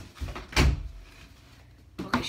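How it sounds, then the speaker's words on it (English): A bedroom door is closed with a couple of solid thuds, one sharp bump followed by a second knock a moment later, close and fairly loud in a quiet room. "I'm gonna close my door fully"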